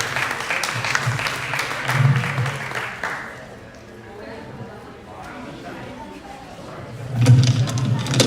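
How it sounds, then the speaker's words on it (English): A crowd at a temple anniversary celebration applauds with loud, continuous clapping that dips in the middle and swells again near the end. "Please give them a big round of applause."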